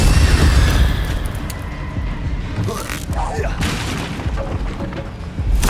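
Hogwarts Legacy combat as the Incendio fire spell is cast, with loud booming bursts and roaring blasts over dense game sound and a shouted voice.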